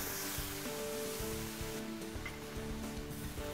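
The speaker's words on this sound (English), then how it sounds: "We're just gonna pour it right on, just about a cup." Tomato bisque poured about a cup at a time into a pan over seared lamb meatballs, a steady close sizzle and liquid rush that continues without pause throughout.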